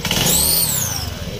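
A Honda Beat ESP scooter engine fitted with an upgraded CVT revs hard in a short, loud, close burst, its pitch rising and then easing back down within little more than a second.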